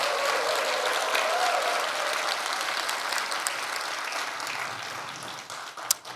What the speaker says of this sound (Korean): 네 분 일어나서 한번 인사하실 때 크게 격려의 박수 부탁드리겠습니다